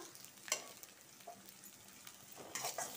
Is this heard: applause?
no